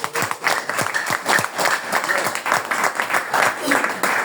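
Audience clapping at a poetry lecture in a university setting, a moderate scattering of claps mixed with voices and a speaker's talk over the top.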